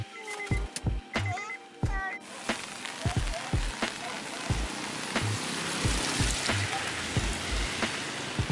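Rain falling at an outdoor dog racing ground in Indonesia, a steady patter of drops on a surface with sharp rhythmic knocks and taps over it, close and fairly loud.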